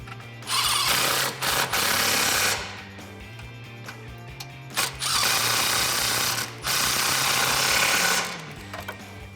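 Ratchet-type tool tightening exhaust hanger bolts behind the differential on a 2018-2019 Ford Mustang GT during an axle-back install; several loud sustained mechanical bursts of a few seconds each, separated by short quiet pauses, no talk.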